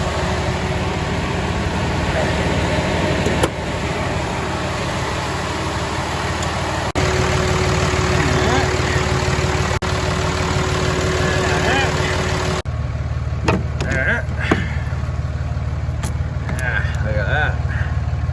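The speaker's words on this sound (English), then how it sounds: "Jump start the big Cummins at the little Cummins." A big Cummins diesel in a Peterbilt 359 idles after a cold jump start, a steady loud rumble running throughout with some speech over it.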